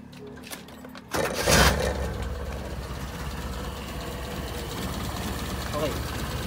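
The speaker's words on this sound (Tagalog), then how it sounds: "Pandarin ko muna itong aking sasakyan." A car engine cranks and catches after a short quiet stretch, then settles into a steady, fairly loud idle with a low rumble that holds for several seconds.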